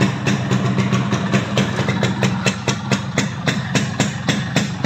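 A 2004 Yamaha RX King motorcycle engine runs close by, a loud rapid two-stroke putter with evenly spaced exhaust pulses, steady throughout with no talk.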